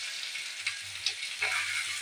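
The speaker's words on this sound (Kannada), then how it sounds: "ಬೇಗ ಒಗ್ಗರಣೆ ಮಾಡ್ಕೊಂಡ್ತೀನಿ" Tempering spices sputter and fry in hot oil for a drumstick sambar, with a constant sizzle broken by a few brief pops and crackles and a low hum beneath.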